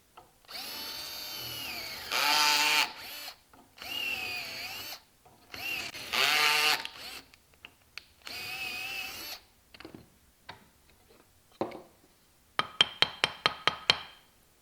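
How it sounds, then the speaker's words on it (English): A power drill whirs in several short bursts, stopping and starting, followed by a quick run of rapid clicking taps near the end. "Now drill all three."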